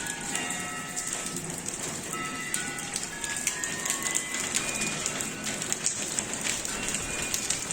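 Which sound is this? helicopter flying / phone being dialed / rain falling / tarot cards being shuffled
rain falling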